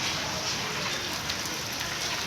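Light drizzle falls steadily outdoors beside a small home garden during monsoon weather, a soft, even hiss of rain continuing throughout without any talk.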